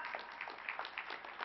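Audience applause at an awards ceremony honoring a scientist, a steady, fairly faint patter of many hands clapping throughout, with no one speaking over it.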